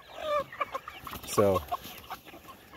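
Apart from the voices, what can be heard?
chickens clucking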